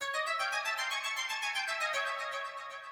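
A bright synth melody in the Egyptian scale for organic and deep house music, its notes moving in quick, pulsing repetitions, played alone at moderate volume.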